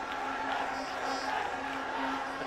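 A football crowd at an India versus Bangladesh U20 final roars steadily, a continuous wash of distant cheering with no break.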